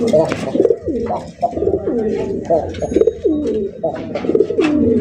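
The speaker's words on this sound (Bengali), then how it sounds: "খুবই সুন্দর একটা বোম্বাই কবুতর" Close, repeated cooing of a Bombay pigeon in a steady rolling rhythm, with soft rustling and a little human speech in the background.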